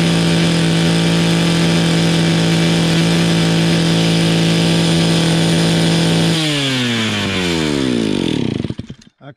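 A chainsaw engine runs loud at steady high revs, close up, then drops off as it winds down and sputters to a stop near the end.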